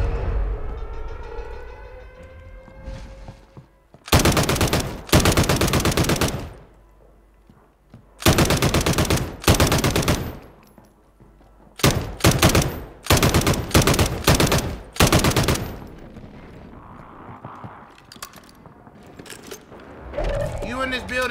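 Call of Duty MW3 gunfire comes as long bursts of loud, dense automatic fire, broken by short pauses and single cracks. A siren-like tone and voices sound in the quieter gaps.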